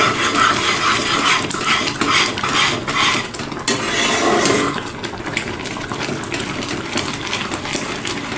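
Five ripe bananas cooking down in three bowls of milk in a pan, stirred constantly with a utensil that scrapes and clinks against the metal over a bubbling, sizzling bed of sound, close and steady.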